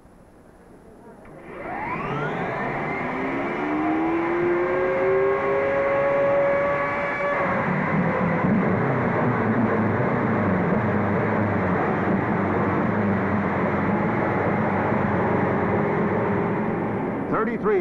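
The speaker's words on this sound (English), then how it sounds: "Then, gentlemen, start your engines." Indy 500 race cars at Indianapolis fire up together in a loud, sustained roar, engines rising in pitch as they rev, then settling into a dense idling rumble from the whole field.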